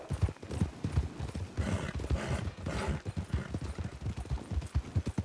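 Horses' hooves clip-clop in a steady, busy rhythm through the full stretch, loud and close, with a brief whinny, from a horse-breaking workday in the western video game Red Dead Redemption (RedM).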